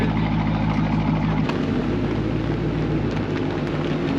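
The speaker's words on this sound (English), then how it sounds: "I forgot how loud this car was." A loud car engine runs close by in a continuous heavy roar with a deep rumble underneath, holding steady throughout with a slight shift partway, and no one speaks.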